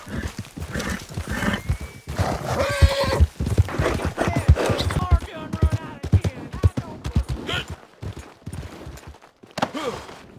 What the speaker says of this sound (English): Get that horse hidden away, Clive, and ready to move out as soon as we